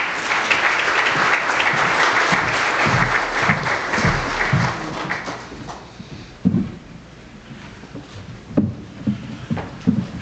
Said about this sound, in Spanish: le acompañamos con nuestro aplauso y nuestro agradecimiento